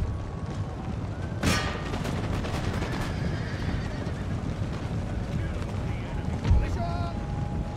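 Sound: musket gunfire from mounted tribal gunners, Empire: Total War video game

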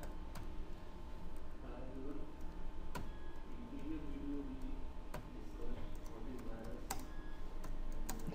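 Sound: typing Java code on a computer keyboard

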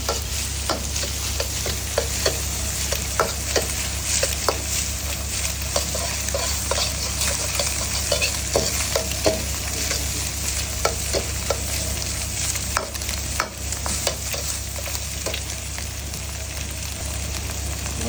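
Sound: frying rice in a pan with fish sauce

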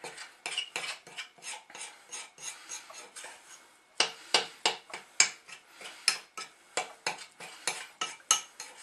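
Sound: stirring chocolate cookie mix in a bowl

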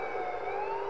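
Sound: police car siren in Grand Theft Auto video game

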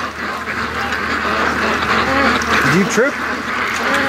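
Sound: Muscovy ducks quacking

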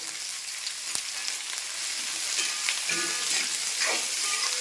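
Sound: onions sautéing with salt in a pan

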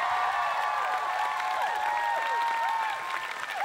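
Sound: audience applause for a band

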